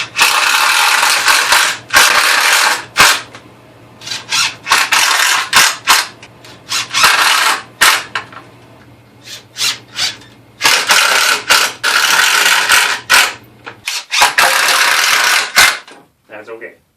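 Bursts of rapid mechanical ratcheting and clattering, loud and close, repeat in short runs as threaded nails are driven into soft wood, with pauses between and occasional speech in the background.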